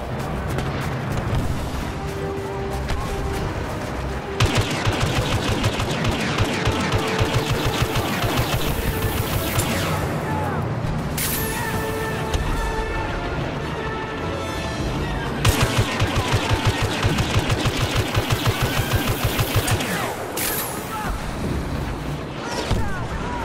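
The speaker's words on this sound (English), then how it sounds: "Focus all blasters on it." Rapid blaster fire in a video game's battle against a walker, dense repeated shots layered over continuous explosive rumble and background effects, with bursts intensifying at intervals.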